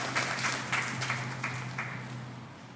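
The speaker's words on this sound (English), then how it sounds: "2 people clapped, they figured whatever." A few people in a church congregation clap sparsely, about half a dozen soft, scattered claps over a low steady hum, fairly faint and without voices.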